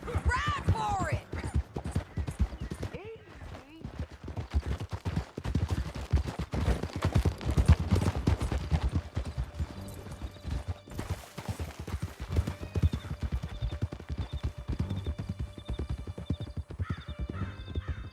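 Horses gallop through a canyon in the Red Dead Redemption 2 video game, a fast steady drumming of hooves close by, with a horse whinnying and scattered gunfire mixed in, and voices talking over parts of it.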